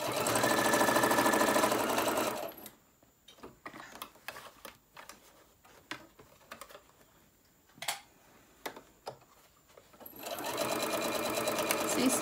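A sewing machine stitches down the straps of a lunch tote bag in two loud, rapid running bursts, with a quieter gap of clicks and handling noises between them.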